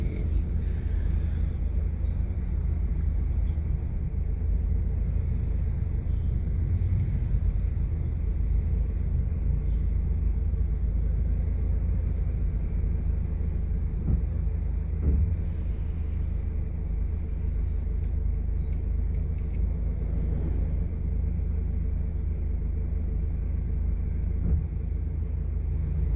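Steady low road-traffic rumble heard from inside a car stuck in congestion on Kamias Road near EDSA in Quezon City, a continuous engine and tire drone with faint passing-vehicle swells throughout.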